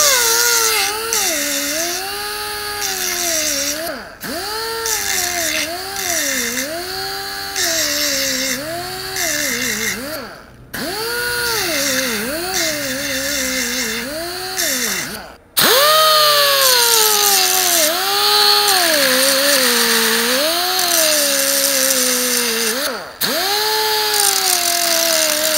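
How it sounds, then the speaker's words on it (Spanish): A pneumatic straight grinder fitted with a small grinding stone whines steadily up close, its pitch rising and falling as speed varies, with a few brief drops in sound between runs. "ahí le vamos a colocar una piedrita para usarla a la amoladora recta"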